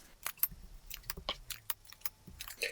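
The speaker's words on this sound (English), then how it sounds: "we're just going to give it a shuffle" Cards from a Neta-Tanka board game deck being shuffled, giving a quiet, irregular run of papery riffles and clicks at close range, with no speech.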